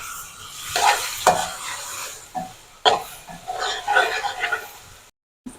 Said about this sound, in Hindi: अब इसमें हम शामिल करेंगे टमाटर।